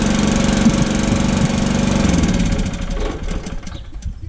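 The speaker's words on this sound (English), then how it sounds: "What we've got here is a start and stop for the Honda petrol engine." A Honda petrol engine on a Niftylift 170 cherry picker access platform runs with a steady, close mechanical drone, then its note loosens and grows more uneven toward the end.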